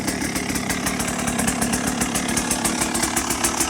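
A 2023 GPX 300R TSE motorcycle engine runs right after starting, producing a loud, close, steady buzzing idle with rapid regular pulses throughout.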